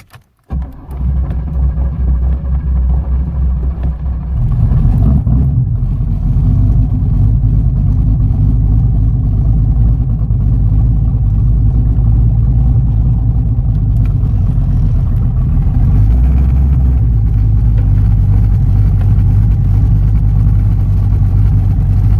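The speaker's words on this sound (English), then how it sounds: "I'm about to fire it up here and pull it on the road so I can jack it up" Pontiac Trans Am engine cranking over, catching and settling into a loud, deep idle with a brief rev and continued steady running, close to the microphone with no speech.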